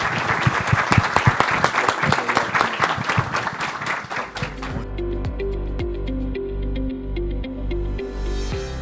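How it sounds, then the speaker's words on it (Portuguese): Applause from a corporate business-talk audience fills the first half, dense clapping that fades out around the midpoint, after which steady low music with a repeating pulse takes over. "Uma salva de palmas para eles,"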